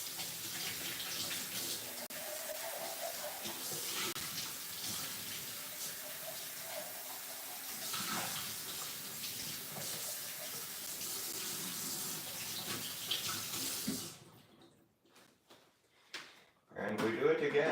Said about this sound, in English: I'm gonna rinse this out.